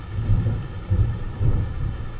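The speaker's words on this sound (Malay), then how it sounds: "Wah, dah hujan lah." Low, rolling rumble of thunder swelling in a few slow waves over a steady wash of rain, no voices.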